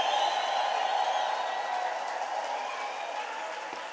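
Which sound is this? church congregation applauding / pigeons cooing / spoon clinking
church congregation applauding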